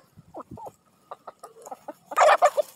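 A backyard flock of chickens clucks and squawks while pecking at kefir grains, several close, uneven calls that end in a louder burst of cackling, with no talk.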